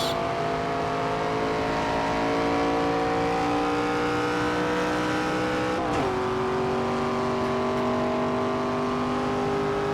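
A NASCAR race car engine in a video game drones steadily with a whining transmission, pitch climbing slowly, dropping with a gear change, then rising again.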